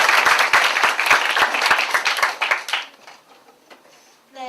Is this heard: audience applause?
yes